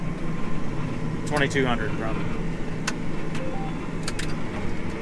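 A tractor engine holds a steady 1870 RPM while pulling an anhydrous ammonia applicator, a constant low drone running beneath close conversation.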